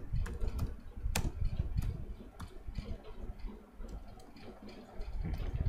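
Computer keyboard clattering as JavaScript code is typed, a run of quick close keystrokes with a few sharper clicks over a low background rumble, quiet, no speech.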